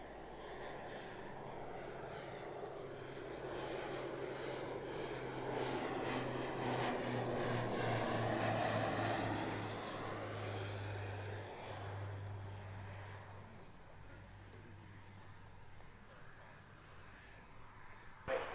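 A propeller aircraft drones steadily as it comes in to land on runway 27, its engine swelling to a peak midway and then fading, with faint radio chatter in the background.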